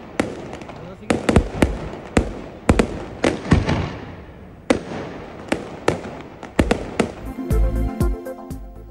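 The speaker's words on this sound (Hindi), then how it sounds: "शदीद बर्फबारी में आतिशबाजी का शानदार मुजाहिरा।" Fireworks go off during heavy snowfall at a New Year celebration in the hill town of Murree. Loud, sharp bangs come one after another at irregular intervals, ending in a dense crackling burst.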